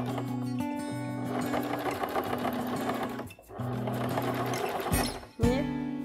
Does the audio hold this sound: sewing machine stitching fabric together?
yes